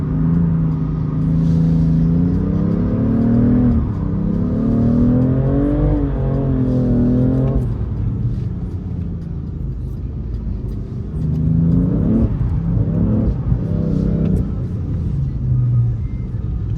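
A car on a race track revs hard, its engine pitch sweeping up and down through repeated throttle bursts, close and loud for the whole stretch.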